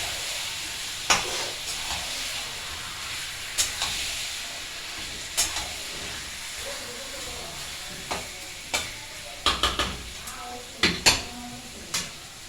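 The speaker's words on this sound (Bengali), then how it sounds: "ভাজা কষাবো আস্তে আস্তে" Masala sizzles in a pan under a steady hiss while a spoon scrapes and knocks against the metal in scattered strokes, heard up close with no talking.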